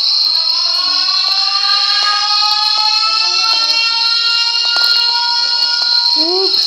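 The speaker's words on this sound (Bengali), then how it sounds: "আমি শব্দ শুনেছি, খুব সামনে ছিল সাইরেন হেড।" A loud, steady electronic wail in the Siren Head forest horror game, a high droning siren tone that holds without a break, with a voice talking faintly underneath.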